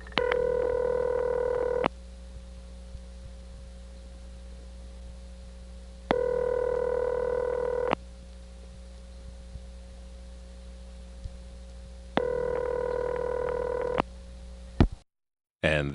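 A 1976 step-by-step telephone exchange in Oley, Pennsylvania, completing a long-distance call over a five-digit trunk to a Pottstown number: a loud ringing tone repeats three times in long bursts, separated by pauses filled with low line hum.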